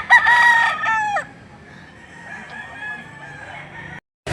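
Roosters crow loudly and close at a poultry market in Lipa City, Batangas, one long crow followed by softer crowing and clucking from other birds nearby.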